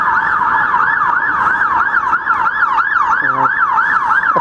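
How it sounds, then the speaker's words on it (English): A fire engine pump ladder wails past on a London street, its siren sweeping up and down in a steady, loud rising-and-falling cycle over traffic noise, with a brief horn blast near the end. "There's a fire engine, pump ladder."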